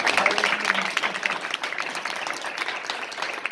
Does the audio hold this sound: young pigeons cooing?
no